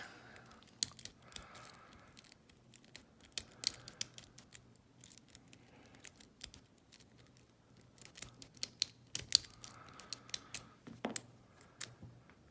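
A Yale railroad switch lock being picked gives off sharp metallic clicks and scrapes in irregular bursts, close and fairly quiet, with brief pauses between the bursts.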